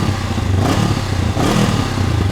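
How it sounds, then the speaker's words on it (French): Honda CBR 500R twin-cylinder motorcycle engine revving close by as the throttle is twisted, a steady low rumble that rises in two brief surges, with no talk over it. "Quand on tourne la poignée, ça se réveille un petit peu"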